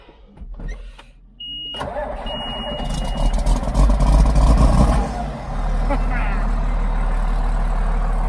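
An old tractor that has sat unused for a while cranks with a few sputters, then catches and revs hard with a loud, close roar before dropping back to a steady, deep idle, while a person speaks over it.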